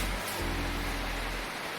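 Loud rain drumming on the ceiling of a studio under construction, with the ceiling tiles removed, a dense, even roar of broadband hiss and low rumble, continuous and close, with no voices.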